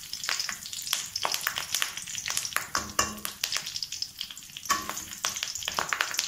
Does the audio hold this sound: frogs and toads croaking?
no